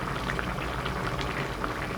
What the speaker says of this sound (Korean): 감자를 넣어 끓입니다.